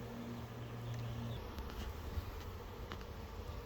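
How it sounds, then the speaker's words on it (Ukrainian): A steady, dense buzzing of many honeybees at a hive fills the air continuously, with a low hum running underneath throughout. "Багато бджоли."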